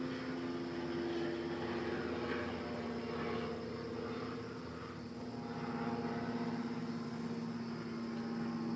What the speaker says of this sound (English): Finally, we got our helicopter delivered.